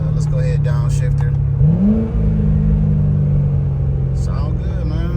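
A Chevrolet Corvette C6 V8 blips and revs up on a downshift, a loud close engine drone that rises in pitch and then settles, with a person talking over it.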